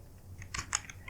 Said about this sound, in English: I am just typing a simple HTML code inside it